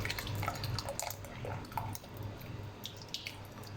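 A rice flour and custard powder mixture stirred slowly into a litre of milk with a spoon for firni, giving a steady close liquid swishing with faint scrapes, no talking.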